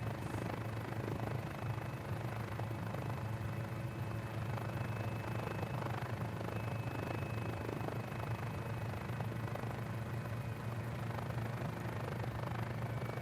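A Mini 500 helicopter engine in Microsoft Flight Simulator drones low and steady throughout, a faint even hum with a thin whine above it and no voices.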